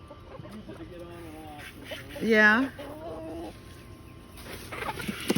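Backyard chickens cluck and murmur inside their coop near a roost, with a louder drawn-out squawk midway and a brief spoken word among the birds.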